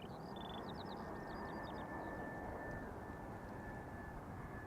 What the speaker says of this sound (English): The third airplane that you see now is an A320neo from ITA Airways, arriving from Milano.